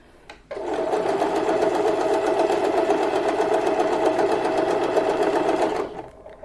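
A sewing machine stitches cloth for a small bed and quilt set, running steadily at close range for about five seconds with a fast, even mechanical whir, then stopping.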